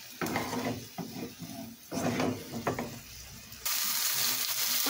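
Asparagus cooking in a hot pan over the heat, a steady sizzle with intermittent stirring clatter and scraping, growing into a louder, denser frying hiss toward the end; no voices.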